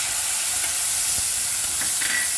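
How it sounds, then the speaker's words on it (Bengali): A ginger, garlic and tomato paste sizzles in a pan over browned onions, giving a steady, close, hissing crackle with no talk. "এবার আমি দিচ্ছি পেস্ট করে রাখা আদা, রসুন আর টমেটো।"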